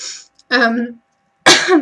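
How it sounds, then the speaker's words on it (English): A couple of short, sharp coughs close to the microphone, separated by a brief silence. "Excuse me, coughing."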